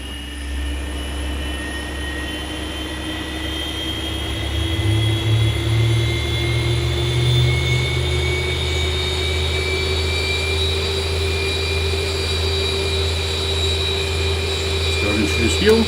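A Boeing 737-800 jet engine starting up in X-Plane 11, heard from outside the aircraft: a loud, steady roar with a high whine that slowly rises in pitch as the engine spools up, continuous throughout.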